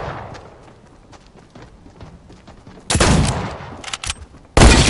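Sniper rifle gunshots from a first-person shooter game, two loud, sharp blasts cutting in near the end after a stretch of quieter game ambience and scattered small clicks.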